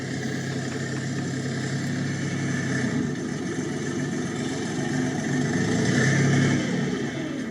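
A small tractor engine runs steadily with a low, continuous mechanical drone, rising slightly in intensity near the end, no voices.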